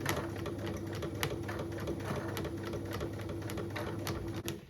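A sewing machine runs steadily, stitching thick tote bag material along a seam edge, with a continuous low mechanical hum and fast needle ticking heard close up and alone.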